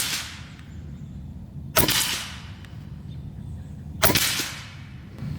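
An Avenge-XL air rifle with a .30 power tune fires FX slugs, two sharp cracking shots a couple of seconds apart, each followed by a short decay over low background noise.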